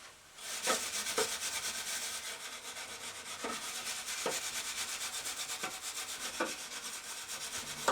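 Rubbing wax off a wooden workpiece in a home workshop with a cloth: a continuous close, scratchy rubbing with steady back-and-forth strokes and occasional sharper scuffs, no voices.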